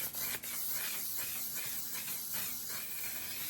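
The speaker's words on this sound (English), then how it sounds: "Okay, we're gonna spray." A close, steady hiss of a spray bottle spraying continuously, with a brief dip near the start before the spray resumes.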